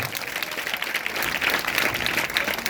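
A church congregation at a New Year revival meeting in Raipur breaks into vigorous, dense applause, a close and steady roar of clapping with no speech over it.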